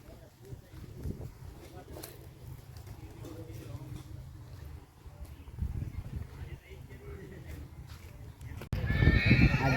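A mare at a horse race neighs and stamps amid a low, busy outdoor rumble, with faint hoof clops and people talking, before a louder burst of noise closes the scene.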